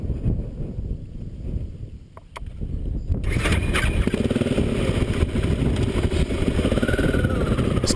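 Motorcycle riding off across the open Russian steppe, engine note rising from a quieter start into a sustained loud drone with heavy wind buffeting the microphone, no talking.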